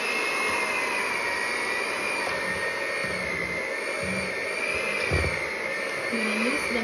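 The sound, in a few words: electric mixer mixing peanut butter cookie dough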